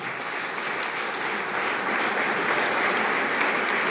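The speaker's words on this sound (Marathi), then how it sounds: "बागल सरांसाठी टाळ्या वाजवा" Crowd applause fills the space, many hands clapping together in a thick, even roar that swells slightly toward the end.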